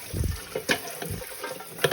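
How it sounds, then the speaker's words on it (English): Freshly harvested organic green beans are rinsed under cold running water in a kitchen sink, with short splashing bursts and faint trickling, close and fairly quiet. "I'm going to give them a nice rinse with cold water in the sink"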